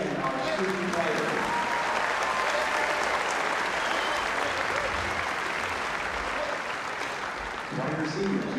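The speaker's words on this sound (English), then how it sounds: "Please join me in giving another round of applause to our recruiting command soldiers and our student choir." A graduation audience applauds soldiers and a student choir: sustained, dense clapping from a large crowd fills the space for most of the stretch, then fades near the end as a voice returns.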